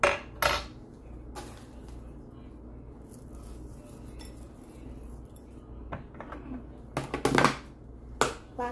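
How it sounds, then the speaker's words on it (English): Fruity Pebbles cereal tipped into a blender jar of milkshake mix, giving light scattered clinks and rattles at the start and in a denser burst near the end, faint against a quiet kitchen background. "I'm gonna add a little bit of the Fruity Pebbles"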